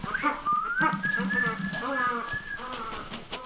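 A person whistles a sustained, gently wavering note as a morning greeting to captive crested ibises at a restoration center, with bird calls and a voice close by.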